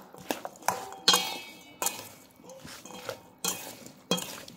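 Olive oil, pepper and lemon juice are stirred into a simple home-cooked dish with a utensil, producing a series of sharp clinks and scrapes against a dish at an uneven rhythm, close by.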